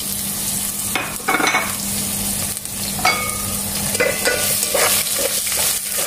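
Onion and chili stir-fried in a pan for pork hamonado, a loud steady sizzle with bursts of spatula scraping and clatter against the pan at irregular moments, close up and without speech.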